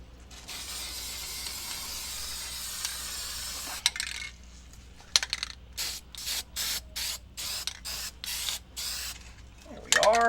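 Anti-seize is sprayed onto a brake part for a 1965 Corvair. A long continuous hiss comes first, then a run of short spurts close by, ending with a faint clink.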